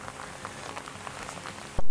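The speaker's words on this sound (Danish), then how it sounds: "Det regner ja, det meget." Rain falls steadily over farm fields, a dense, even patter of drops at moderate loudness, ending with a sudden loud rustle.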